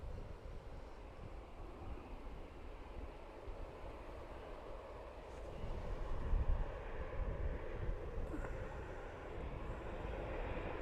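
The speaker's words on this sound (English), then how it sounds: "So, this Aer Lingus is off to Amsterdam" An Aer Lingus airliner departs Dublin Airport with a continuous, distant jet engine rumble that swells slightly midway and stays steady, with no talking.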